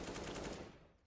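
A rapid burst of CS:GO rifle fire punched through a wall on the Inferno map, several quick close shots in a row that fade away within a second.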